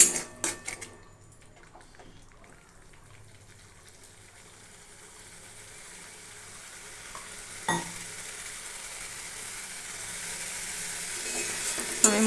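Spice paste frying in oil for a green jackfruit dish sizzles faintly and steadily, punctuated by a few sharp scraping clatters of stirring near the start and midway, the hiss gradually swelling louder toward the end.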